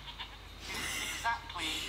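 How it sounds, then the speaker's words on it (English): A goat bleating in a TV series episode, heard as a few wavering, nasal cries mixed in with people talking and other show sound, moderately close and not very loud. "I just can't believe that we have a motherfucking goat."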